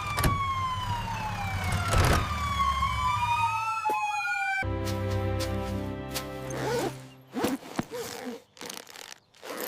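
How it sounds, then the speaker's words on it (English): A loud ambulance siren wails with sweeping, shifting pitch as it approaches up a driveway, followed by rapid rhythmic siren tones and some clattering noises nearby. "I hear a loud siren coming closer"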